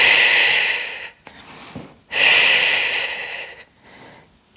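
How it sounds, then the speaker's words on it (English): Two deep breaths during a core workout for runners, each a long airy inhale through the nose and exhale through the mouth, close and loud, separated by short pauses. "Nice full wide breath in through the nose, out through the mouth."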